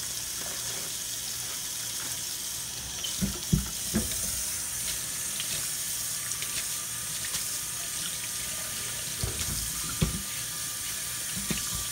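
Water runs steadily from a kitchen sink tap while raw chicken is rinsed, a constant close hiss with a few soft splashes and knocks.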